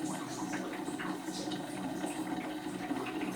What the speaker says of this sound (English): The bubbling and gurgling noises which can be heard is the air being admitted.